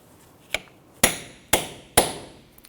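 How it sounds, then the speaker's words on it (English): A steel punch is struck four times with a hammer to dimple the axle nut of a Honda Ridgeline. The blows are sharp metallic and evenly spaced about half a second apart, close and loud, with short ringing decays. "you can use a punch and you want to go ahead and dimple the axle nut into that notch there"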